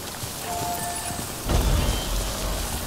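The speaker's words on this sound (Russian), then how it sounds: "Вот, типа, здесь начинается дождь." Steady hiss of rain in the video game Death Stranding, a continuous wash of falling water that swells slightly louder midway, with no voices.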